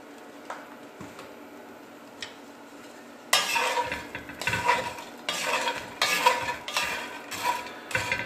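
Croutons being stirred and dry-fried in a pan with hmeli-suneli spice, giving a dry rattling scrape in repeated bursts that grow louder partway through, near and with no talk.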